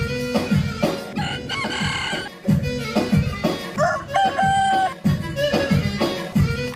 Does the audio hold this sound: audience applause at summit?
no